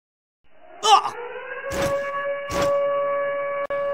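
A video game siren wails with a steady, sustained tone, interrupted by a few short bursts of other sounds, no speech.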